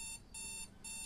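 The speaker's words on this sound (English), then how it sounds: "Oh, I hate alarms." An alarm clock ringing in the video game Jalopy, sounding in three rapid repeating bursts with short gaps, a bright electronic ring heard alone.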